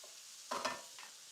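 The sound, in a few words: meat renderings frying in a hot pan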